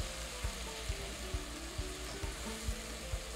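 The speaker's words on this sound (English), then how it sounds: "Give it a stir." Seasoned rice frying in a pot, mixed with homemade seasoning and pork flavors, stirred in a steady rhythm: soft scraping strokes about twice a second over a low, constant sizzle, close and fairly quiet, with no voices.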